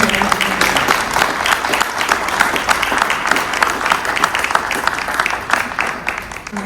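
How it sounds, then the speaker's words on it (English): Loud, sustained applause from a crowd at a local political candidate forum, many hands clapping in a dense, even roar that holds for nearly seven seconds. "I'd like to start with a big round of applause for all of our candidates."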